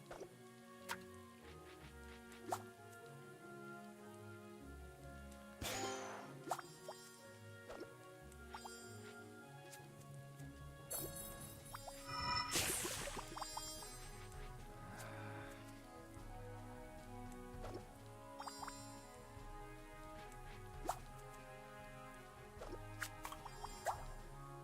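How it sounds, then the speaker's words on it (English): Water poured into a cooking pot in the video game Battle Chef Brigade, a splashy burst over a steady bed of game music and dripping effects. "I need to put some water in this now."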